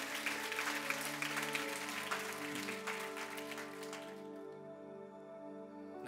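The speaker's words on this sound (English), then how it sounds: "Can we give the Lord a big hand clap of praise?" A church congregation claps in praise, a broad wash of hands that gradually thins and fades out over a sustained organ or keyboard tone.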